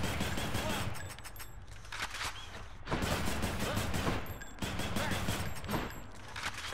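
The Adamant Rail, a heavy rail gun in the Hades action game, fires in rapid repeated bursts with dense, loud crackling blasts that pause briefly around the three- and four-and-a-half-second marks before resuming.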